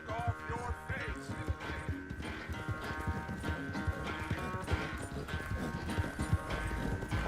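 Horse hooves galloping in the video game Red Dead Redemption 2, a steady rapid clatter running throughout under dense in-game music and ambience.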